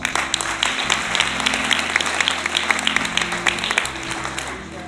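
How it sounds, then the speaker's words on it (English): Audience applause fills a charity gala hall, steady loud clapping from a large crowd sustained throughout without a break. "Please give yourself a round of applause."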